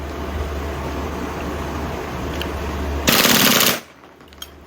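Airsoft gas-powered Glock 18 pistol fired on full auto, a single short burst of rapid shots lasting under a second, loud and close over a steady background hum, followed by quiet.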